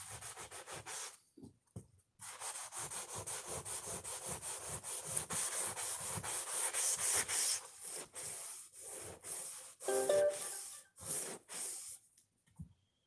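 Hand sanding with 400 grit sandpaper on a project, a close, rhythmic scratchy rubbing in repeated strokes with a couple of short pauses, faint breathing in between.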